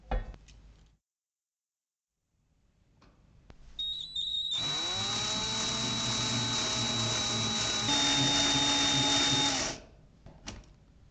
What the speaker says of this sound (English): And next, I'll drill a hole in the middle of the plate.